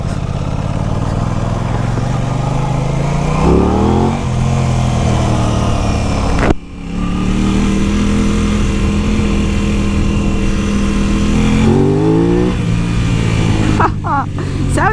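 An Aprilia RS660 sport motorcycle engine drones loudly and rises in pitch as it revs through the gears, with a brief sharp drop midway, heard close up.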